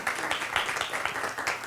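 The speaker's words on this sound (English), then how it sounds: "we need to give them a round of applause" An audience at a community school meeting claps in a round of applause for central office administrators, a dense, fairly faint and continuous patter of many hands across the short stretch.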